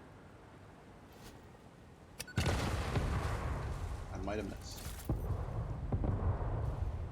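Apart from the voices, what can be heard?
explosions in Satisfactory video game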